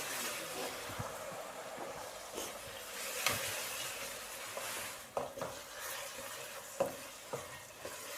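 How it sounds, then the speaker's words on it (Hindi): Spice masala with crushed red chilli frying in a pan, a soft sizzle broken by intermittent stirring scrapes and light spoon knocks, fairly quiet and close, no voices. "अब इस मसाले को हम अच्छे तरीके से भूनेंगे।"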